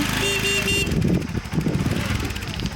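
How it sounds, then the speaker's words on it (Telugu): Auto-rickshaws and motorbikes arriving at a diamond-hunting field, engines puttering and revving nearby under someone talking, with a brief horn-like tone at the start. "ఎన్ని ఆటోలు ఎన్ని బైకులు చిన్న చిన్న పిల్లలను కూడా వేసుకొని ఎలా వస్తున్నారో చూడండి"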